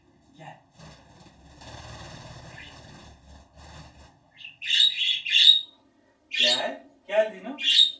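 Pet budgerigars squawk and chirp in bright, sharp bursts close by, following a stretch of low mechanical hum, with a few quick calls clustered near the end.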